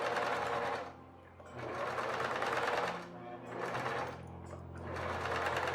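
Sewing machine stitching a gathered ruffle for a tablecloth, running in three rapid whirring bursts separated by short pauses, close and clear with a soft voice barely underneath.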